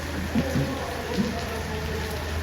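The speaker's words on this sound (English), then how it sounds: "And it continues to rain." Steady rain falls on an outdoor rugby and netball field during school district trials, giving a constant soft hiss with a low background rumble and a few faint voices underneath.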